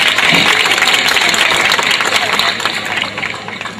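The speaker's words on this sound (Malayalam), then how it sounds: "എല്ലാവരും കൈയടിച്ച് പ്രോത്സാഹിപ്പിക്കണം." A crowd claps steadily at a Malayalam comedy stage show, dense and loud at first, then thinning slightly toward the end.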